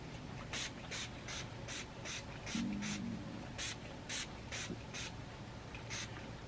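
Short hissing spray bursts of oil-free wig shine misted onto a relaxed Dominican blowout half wig, about a dozen quick puffs in an irregular rhythm, close and fairly quiet, with no talking.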